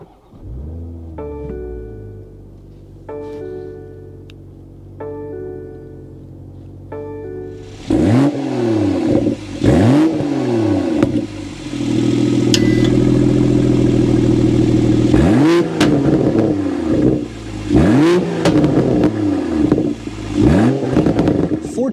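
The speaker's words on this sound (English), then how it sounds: "start up this inline M twin power turbo so you can hear that exhaust note" A 2024 BMW Z4 M40i inline twin-turbo engine idles with steady harmonic tones, then revs hard repeatedly with loud rising-and-falling exhaust bursts and a sustained roar, close and forceful.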